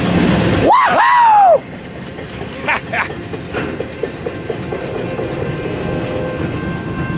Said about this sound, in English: what an amazing train. There goes westbound.